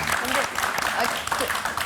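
A studio audience on a Christian talk show claps briefly for a guest. The short burst of applause runs under voices talking.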